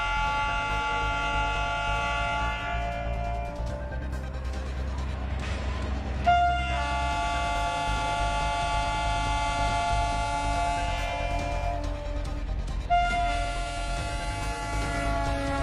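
The Gonda Express from Gorakhpur sounds its horn in long, sustained, siren-like tonal blasts, broken by a short gap and then resumed, with a low rumble running underneath.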